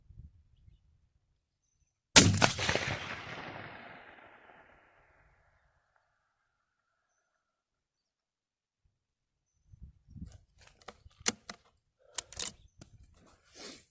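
A single sharp rifle shot from a 6.5 or .308 rifle firing ELD-M bullets at long range in open country, loud and close, with a rolling decay lasting about two seconds. Quiet follows, then scattered faint clicks and handling noises.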